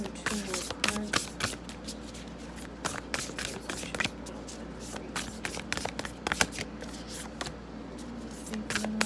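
Oracle cards are shuffled by hand in a steady run of quick riffling slaps and papery flicks, close up and continuous for several seconds, with no voices.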